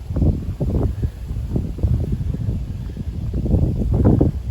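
Warm wind ahead of a supercell thunderstorm buffets the microphone in low, uneven rumbling gusts that swell and fade continuously, loud and close, with no voices.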